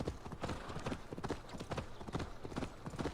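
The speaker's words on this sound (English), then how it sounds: "Vamos lá, Pocotó. Vamos lá, upa." Horse hooves clip-clop in rapid, even steps on the ground in Assassin's Creed Valhalla, close and clear with a continuous trotting rhythm throughout.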